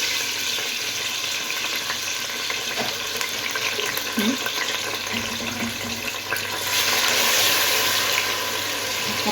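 Water is poured into a pot of tomatoes while cooking rice and fried fish, a close, continuous splashing and sizzling that grows louder toward the end, with no talking.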